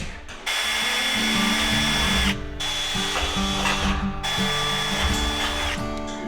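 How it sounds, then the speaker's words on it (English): A power drill whirs loudly in bursts outdoors while drilling four corner holes, spinning up, cutting, then stopping briefly before starting again, with mechanical ratcheting clicks between runs. "we're going to drill all 4 of our holes in the corners"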